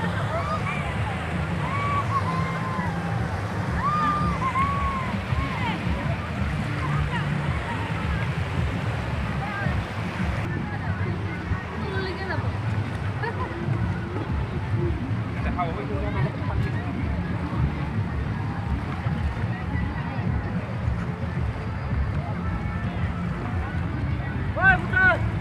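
A boat moves across a river during a picnic outing, with a steady low engine rumble and water rush under wind buffeting the microphone, while people talk and chatter throughout.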